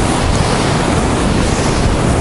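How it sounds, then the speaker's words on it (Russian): Sea waves breaking on the shore at Khosta, Sochi, in December, a loud continuous broadband roar of surf mixed with wind buffeting the microphone. "О, какие там волны классные."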